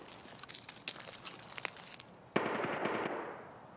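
Video game gunfire, first a run of quiet crackling shots and then a loud close burst that fades away, with no talking.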